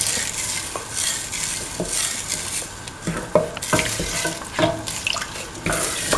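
A utensil stirs mung beans and tomato in a pan, with irregular clinks and scraping strokes over a soft background sizzle.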